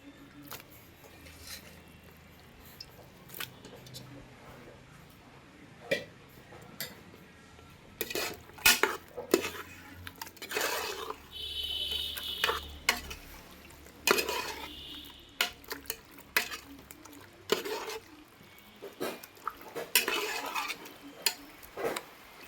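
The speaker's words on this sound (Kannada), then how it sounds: "ಡೀಪ್ ಫ್ರೈ ಆದಮೇಲೆ ಮಟನ್ನ ಶುಂಠಿ ಬೆಳ್ಳುಳ್ಳಿ ಪೇಸ್ಟಿಗೆ ಹಾಕಿ ಚೆನ್ನಾಗಿ ಬಾಡಿಸ್ಕೊಬೇಕು" Mutton being stirred and sautéed with ginger-garlic paste in a pan for a village-style mutton curry, heard as a metal spoon scraping and clinking against the pan in irregular bursts over a faint sizzle.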